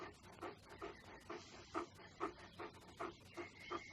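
An injured dog with a badly swollen, infected paw pants in a steady rhythm of quick breaths, with faint whimpers, close by and fairly quiet while a person soothes it.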